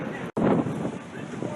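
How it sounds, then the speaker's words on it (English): Strong wind on a windy night at Virginia Beach buffets the microphone in loud, rough gusts with a sudden brief dropout near the start, then continues as a steady roar. "The last windy night. A very windy night."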